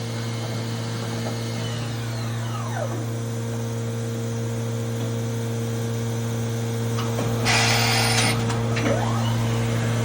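The spindle of a Kitamura Mycenter 2Xi CNC vertical machining center spins at 10,000 RPM, giving a steady close hum with a strong tonal whine, some swooping sweeps and a short burst of hissing noise near the end.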